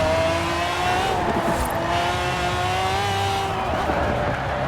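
An upgraded BMW 850CSi with a 1,400-horsepower V12 and all-wheel drive races in Forza Horizon 4, its engine droning loud and steady with rising and falling pitch, alone without talk.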